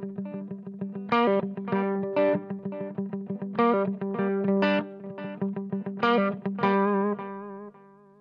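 An electric guitar plays through the echo effect of a Marshall Haze 15 amplifier, with adjust and depth at half. Picked notes and chords ring out with repeating echoes, loud and close, with no talking.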